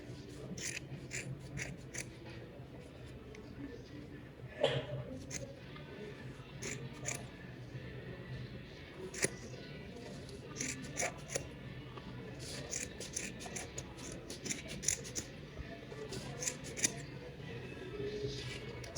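Scissors snip repeatedly through the yarn of a pompom, with sharp little cuts scattered irregularly over a quiet room hum.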